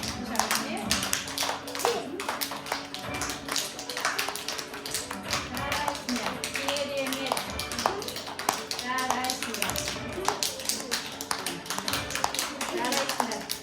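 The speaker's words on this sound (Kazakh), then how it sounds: "Сіздер кәне отырып қошаметтеп тұрамыз" A group of children claps over and over in a kindergarten activity room, with sharp, fairly even hand taps running the whole time and young voices talking and calling out beneath them.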